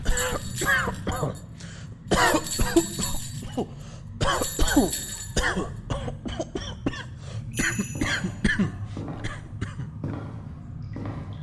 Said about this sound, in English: how long have you had this cough?